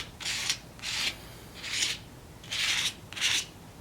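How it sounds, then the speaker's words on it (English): Shaving cream mixed with paint is scraped across a canvas bag in five separate soft, raspy strokes with short pauses between them, close and fairly quiet, with no voices. "You get shaving cream and paint, and then you just put it on and scrape it across."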